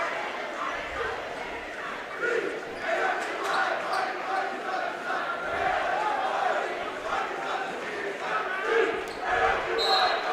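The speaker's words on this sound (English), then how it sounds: "We've got a big cheer going on there by the student section." A student section cheers loudly at a high school basketball double header, SFC versus Dakota Valley. The crowd roars in a sustained wash with chanting swells and a few sharp peaks, while a commentator talks over it.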